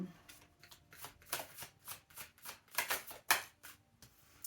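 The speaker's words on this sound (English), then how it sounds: "Let me just shuffle these as well." Tarot cards are shuffled by hand close up, a series of quick riffling bursts and soft slaps with short pauses between them.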